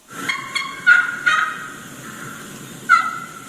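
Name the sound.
recorded wild turkey hen questioning yelps, gobbler responding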